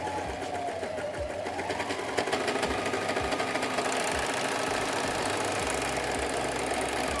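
An overlocker sewing machine with differential feed at 1.05 stitches fabric, a steady fast mechanical whir with rhythmic needle chatter that runs continuously and close up, rising slightly in intensity partway through.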